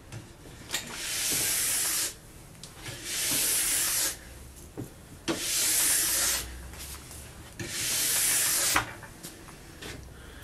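A steel brush is stroked along a ski base in four long, even passes, each a loud, rough scraping hiss with short quiet gaps between strokes.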